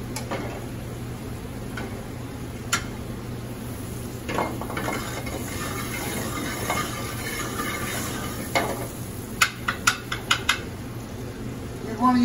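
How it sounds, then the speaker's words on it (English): Butter melts in a hot pan while filet mignon is being cooked, giving a steady, soft sizzle with scattered ticks and utensil clinks near the end. "At this point, we're going to add some butter. We'll let those butter melt."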